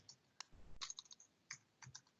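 Someone types on a computer keyboard at a desk with quiet, irregular clicks and short bursts of keystrokes, close and soft, with no talking.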